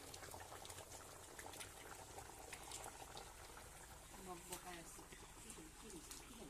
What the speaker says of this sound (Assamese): কোমোৰা আৰু হাঁহ মাংস পুৰা উতলি আছে